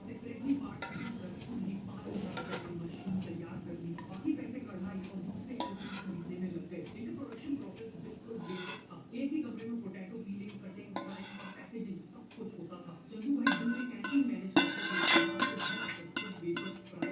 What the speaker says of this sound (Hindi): अब इसे मैं दूसरे बर्तन में निकाल रही हूँ।